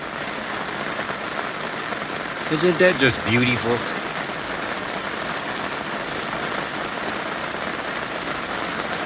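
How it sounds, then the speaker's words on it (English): Steady rain falls through a forest and patters on a camp awning, a continuous broadband hiss throughout; a person speaks briefly partway through over the rain. "Sound the rain in the forest."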